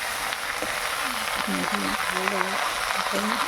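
Greens (leaves) being stirred and fried in a pan for a chutney, giving a steady close sizzle with scraping stirs, while a voice hums or speaks faintly over it.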